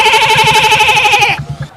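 A voice imitates a goat's bleat, a loud, wavering nasal call held steadily for over a second before breaking off into quieter murmurs.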